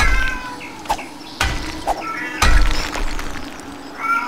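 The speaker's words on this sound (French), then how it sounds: "Mon chat qui gueule, super." A cat in a French let's-play of 7 Days To Die meows loudly several times in short, sharp bursts, with brief gaps of near quiet between the cries.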